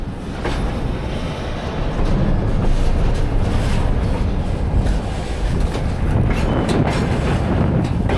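Inside a boxcar of a freight train heading into Mongolia, a loud continuous rumble of wheels and rattling car body fills the whole stretch, with scattered clanks as the train pulls away.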